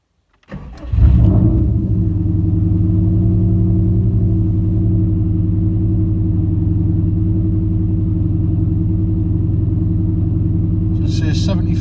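Subaru Impreza with a straight pipe exhaust starting up cold, then settling into a loud, steady, deep burbling idle that holds for several seconds close by.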